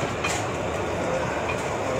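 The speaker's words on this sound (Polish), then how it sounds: "jesteśmy na żnińskiej kolei wąskotorowej" A narrow-gauge train on the Żnin railway in Poland, heard while riding off-season, makes a continuous rumbling roll with faint rhythmic wheel clacks and a brief high squeal, close and steady with no talking.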